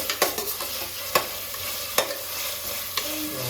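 Onion frying in oil in a pan for chicken biryani, a constant sizzle with several distinct scraping and tapping stirs of a spatula, close and moderately loud with no talking.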